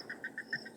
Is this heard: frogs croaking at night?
yes